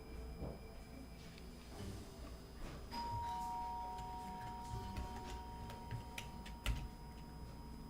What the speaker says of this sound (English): Oh no, I think I just heard our doorbell ring.